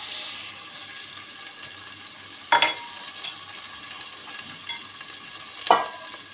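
Onion frying in a pan for noodles gives a steady, close sizzle, with two sharp clangs of a spoon stirring against the pan and no voices.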